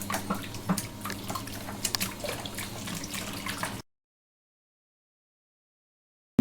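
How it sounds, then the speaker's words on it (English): Malt extract for a Coopers stout homebrew is poured into liquid and stirred, giving close, soft sloshing and dribbling sounds for a few seconds before cutting to silence. "we're just going to pour in our malt extract, and we're going to give that a good stir"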